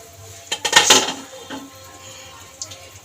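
Metal pot lid lifted off a pot of simmering rice paste for chicken soup, a cluster of sharp clinks and clatters near the start followed by a faint scrape and a small tap, close and otherwise quiet.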